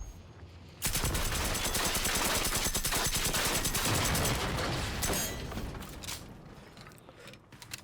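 Rapid automatic gunfire in the shooter game Generation Zero, a sustained loud burst of dense rattling shots lasting several seconds, then tapering to scattered single shots.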